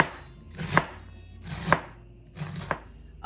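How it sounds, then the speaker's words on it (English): A knife chops a big pile of cabbage on a large cutting board: three crisp, sharp strikes about a second apart, close and clear, with quiet between them. "I can chop my ingredients. I got this huge pile of cabbage here, and I can just keep chopping."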